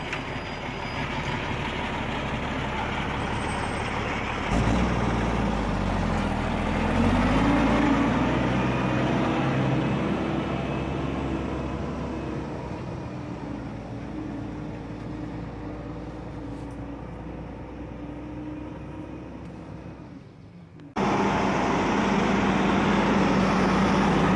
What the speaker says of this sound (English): The driver stepped on the gas hard. The truck roared and moved forward